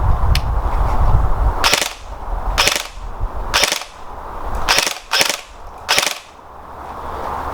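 Sharp snapping reports from an Ares G36C EBB electric-blowback airsoft rifle, fired in a series of quick two-shot bursts, each pair loud and close with a short pause between bursts, over a low background rumble.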